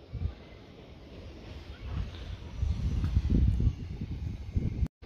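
Gusty wind blowing outdoors, rumbling against the microphone in uneven surges that build louder toward the end before cutting off.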